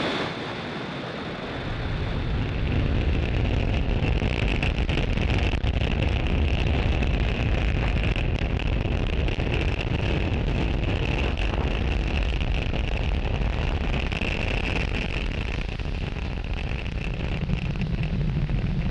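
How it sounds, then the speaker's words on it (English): A SpaceX Falcon 9 lifting off from Space Launch Complex 40 at Cape Canaveral, Florida, carrying Starlink satellites, swells after a brief quiet into a sustained, broad, rumbling roar that holds steady and loud, with no voices. "Falcon 9 has successfully lifted off from Space Launch Complex 40 from Cape Canaveral, Florida"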